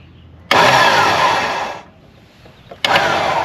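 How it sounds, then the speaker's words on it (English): An electric winch mounted on a Toyota Tundra bumper runs in two loud, close bursts of motor whir, the first lasting over a second, a short pause, then it starts again. "Turn this on, hit the winch."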